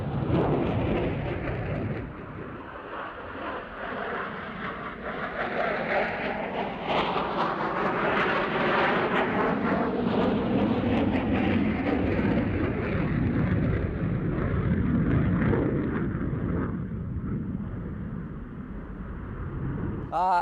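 F-15 Eagle fighter jet in a hard 9G turn at an aerial demonstration, a loud, continuous broadband jet roar that swells and shifts in pitch through the maneuver, steady throughout with no talk.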